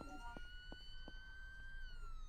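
Police car siren in a video game, a steady sustained wail that drifts slowly in pitch over a low engine rumble, with a few faint thuds, continuous and fairly close.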